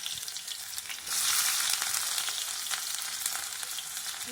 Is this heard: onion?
yes